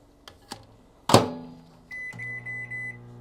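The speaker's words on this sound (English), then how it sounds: "We're gonna pop this in the microwave." A microwave oven heating chicken: a few soft clicks, a sharp thunk as the door shuts or the oven starts, then a steady electrical hum runs on alone.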